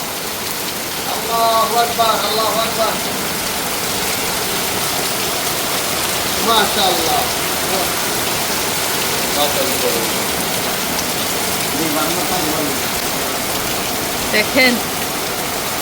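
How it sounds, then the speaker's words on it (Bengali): Heavy rain pours steadily from the sky in a dense, loud, continuous hiss, while someone speaks intermittently over it. "দেখেন আকাশ থেকে গড়গড়িয়ে কত সুন্দর বৃষ্টি হচ্ছে"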